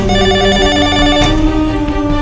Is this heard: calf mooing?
no